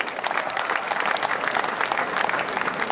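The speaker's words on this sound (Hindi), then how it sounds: "आप इनके लिए भी जोरदार तालियां बजाइए" An audience in an auditorium gives sustained, dense applause that stays loud and steady throughout without fading.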